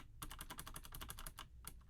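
Close, rapid keystrokes clatter on a computer keyboard as a Shift Tab shortcut is typed, a quick burst of clicks with a brief pause before a few final taps.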